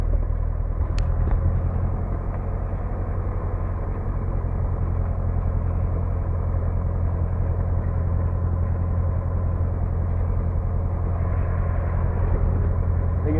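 TB9 light aircraft engine during a takeoff run on runway 08, a constant loud low drone heard from inside the cockpit, with one brief click near the start and no voices.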